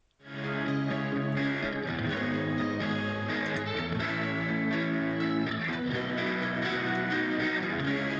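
Layered indie rock electric guitars, one channel with chorus plus a touch of reverb and light tremolo, play a sustained chordal passage that starts after a brief silence and stays full and steady throughout.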